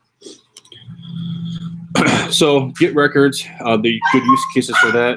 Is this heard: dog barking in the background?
yes